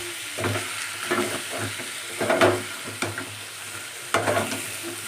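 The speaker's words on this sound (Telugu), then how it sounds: "బాగా కలిపేసుకోవాలి కింద అడుగు పట్టేస్తుంది కదా అడుగు పట్టకుండా కలుపుకోవాలి" Spicy chicken fry being stirred in a pan, a spoon scraping the bottom in a few bursts over a steady close sizzle, with no one talking.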